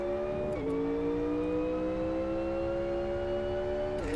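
Race car engine in the racing game Live For Speed with a flat-plane-crank V8 character, held at high revs with a steady buzzing whine and brief dips, loud and alone.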